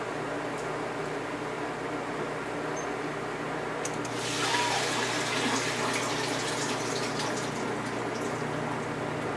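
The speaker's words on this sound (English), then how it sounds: "Now I drain the water very well with the potatoes." Boiled potatoes being drained in a home kitchen while making potato gratin: a steady broadband rush of pouring water swells midway and runs on, moderately loud, with no talking.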